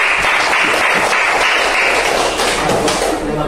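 Classroom applause after a student presentation, quick close clapping from a small group of classmates with a few heavier thumps mixed in, loud and continuous throughout.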